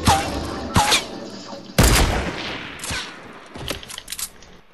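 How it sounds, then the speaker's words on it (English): Gunfire in a squad battle video game, with a sniper shooting from a hill: loud sharp shots and bursts in quick succession, one heavy boom, then scattered lighter pops fading away. "someone's shooting at me from the hill"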